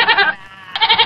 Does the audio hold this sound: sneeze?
no